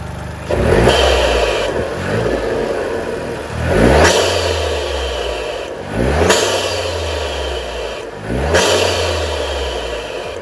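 Toyota GR Yaris engine fitted with an MST Performance intake, revved four times in quick pumps from idle, each rise a loud rasping surge with intake noise that falls back to a low idle between blips.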